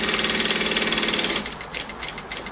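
An MS-9800KR electronic auto-trimming lockstitch sewing machine, set to a 3.0 stitch length, whirs steadily and closely, then the motor cuts out, leaving soft mechanical ticks.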